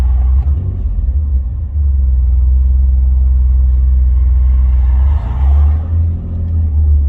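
An Alfa Romeo GTV customer car, long off the road, revs smoothly through its range: a loud, steady low engine drone that swells and eases, with a brief dip near five seconds, close and alone.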